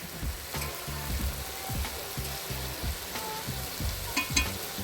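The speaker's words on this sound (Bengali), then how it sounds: "এদিকে রান্না হচ্ছে পুঁই শাক, চিংড়ি, কুমড়ো, দেখতে পাচ্ছ সব কাঠের জালে।" Malabar spinach, prawns and pumpkin cooking together over a wood fire, a steady close sizzle and bubbling with faint crackle running throughout.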